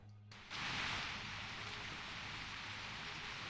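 Heavy rain pours down in the Project Epoch game world, a dense steady hiss that swells in after a brief quieter moment and keeps on without a break.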